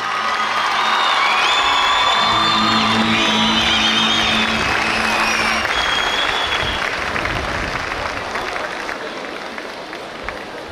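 A large outdoor concert crowd at an expo applauds and cheers loudly, with high whoops and shouts rising over the dense clapping early on before the roar gradually eases.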